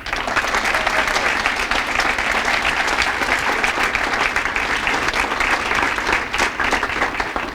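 Sustained, dense applause from a seated audience honoring new inductees at a school Hall of Fame ceremony, steady and full throughout with no break.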